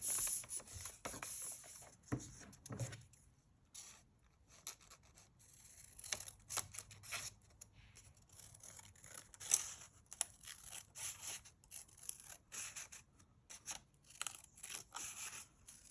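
Scissors cutting paper for a journal, faint snipping and rustling in irregular bursts with quiet pauses between cuts, recorded close in a quiet room.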